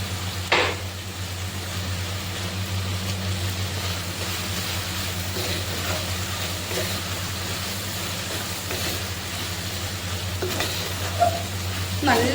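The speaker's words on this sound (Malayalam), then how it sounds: "നല്ലതായിട്ടൊന്ന് ഇളക്കി കൊടുത്തു." Crab roast fries in a pan while being stirred, a steady sizzle over a low constant hum, marked by a few sharp knocks of the spoon against the pan.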